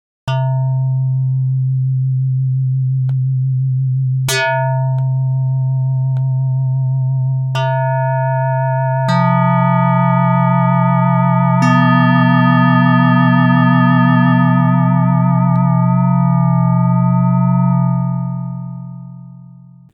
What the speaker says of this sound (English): the LFO does have an envelope as well, and so we can just adjust that to change how quickly we hear those modulations kicking in